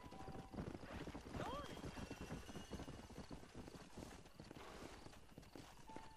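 Horse hooves clip-clop steadily in the video game Red Dead Redemption, a brisk rhythmic gait with a short whinny partway through, heard under faint background noise and someone talking.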